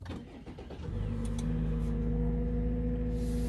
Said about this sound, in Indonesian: Nah, ini dia suara mesinnya.